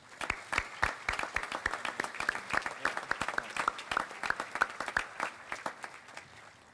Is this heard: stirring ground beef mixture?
no